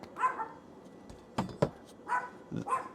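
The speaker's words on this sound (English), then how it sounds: "We've got the next door's dog making sure I'm doing a good job. Hopefully he isn't barking for too long." A neighbour's dog barks several times at a distance, in short separate yips and woofs spread across a few seconds, with no talking.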